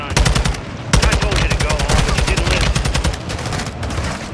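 A tank opens fire on the player in Call of Duty: Modern Warfare 2, with loud, rapid bursts of gunfire hammering almost nonstop, a brief break near the end, then more shots.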